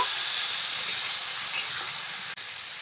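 Raw mango and fried vegetables stirred together in hot oil, a bright continuous sizzle and hiss close up, with soft stirring movement and a brief dip near the end, no speech.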